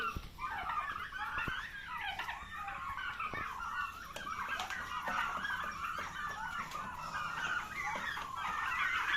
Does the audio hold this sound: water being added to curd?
no